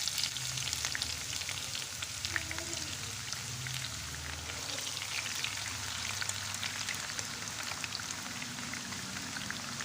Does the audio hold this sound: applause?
no